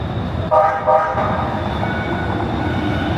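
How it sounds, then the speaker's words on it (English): A rumbling train rolls past on a downtown Houston street, with a short horn toot near the start over a steady, loud mechanical drone. "There's the train going down Capitol."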